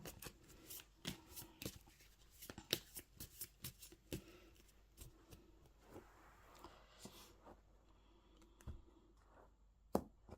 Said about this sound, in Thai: ขอเป็นตัวแทนสับไพ่ตัดไพ่ให้คนเกิดวันจันทร์ค่ะ